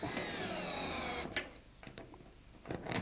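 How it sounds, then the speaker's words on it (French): Cordless screwdriver tightening bolts on a Waterair pool kit: a steady whirring motor runs for over a second, then stops, leaving a few clicks and knocks of handling nearby. "je vous conseille évidemment la visseuse électrique, enfin la visseuse sans fil"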